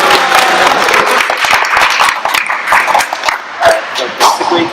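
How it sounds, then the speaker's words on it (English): Crowd at a senior graduation applauding the parents, dense continuous clapping with some cheering, loud and filling the room. "So now let's please give our amazing parents a huge round of applause."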